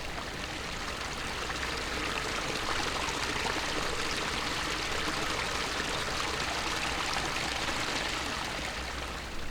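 A clear mountain river in a Norwegian national park flows steadily, a dense, continuous rushing of water that stays loud and even throughout with no break.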